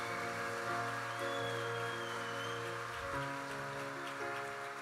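Steady broadband applause from a church congregation during a sermon, a dense continuous patter like rain with a sustained organ or keyboard tone underneath, holding at an even level throughout.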